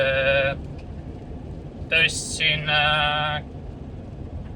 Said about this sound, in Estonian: Kuradi lambad raisad jooksevad vahepeal tee peale ka siin